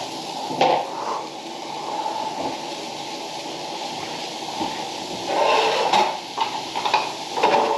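Meat sizzles steadily in a hot pan, a soft continuous hiss with a few brief clinks and stirs now and then.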